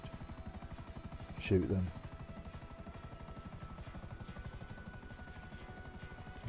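Helicopter in the game GTA 5 biker DLC, a steady rotor chop pulsing throughout at moderate loudness, with a brief louder burst near the start and a voice talking over it.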